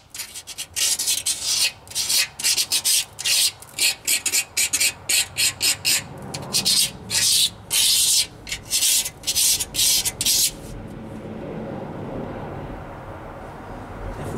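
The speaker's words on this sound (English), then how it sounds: "Just using a regular utility razor blade for this." A utility razor blade scrapes grit and gunk off an antique engine crankcase in quick, rhythmic rasping strokes, loud and close, then gives way to a softer steady hiss.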